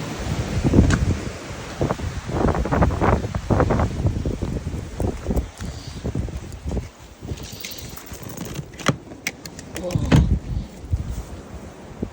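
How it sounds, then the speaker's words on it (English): Strong blizzard wind gusts and buffets hard around a remote home, loud and uneven throughout, with bursts of microphone rumble and a voice speaking over part of it. "it's so windy out here"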